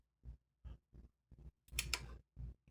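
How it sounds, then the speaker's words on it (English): During lockpicking, a lock's sidebar drops. Small, faint, close clicks and ticks sound one by one in a quiet room, with one slightly longer, brighter scraping click partway through. "That was the sound of the sidebar."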